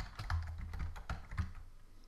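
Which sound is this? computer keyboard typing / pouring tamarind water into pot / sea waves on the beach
computer keyboard typing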